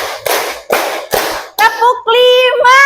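A class of students claps together in counted rounds, with three sharp group claps followed by a voice calling the count; speech continues after the claps.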